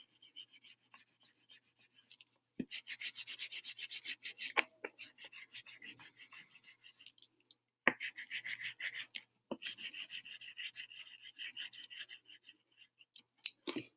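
White crayon rubbed on paper in quick back-and-forth scribbling strokes, close and quiet, coming in bursts separated by short pauses.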